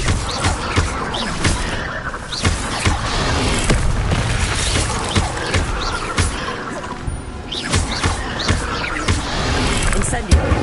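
An Incendio fire spell is cast again and again in a video game, each cast a booming blast in a dense, noisy run of bursts, with a voice speaking over it.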